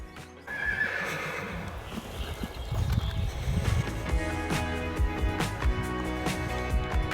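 New Forest horses outdoors, with a whinny early on and hooves clip-clopping at a steady irregular rhythm through the rest, fairly close and clear with no talk.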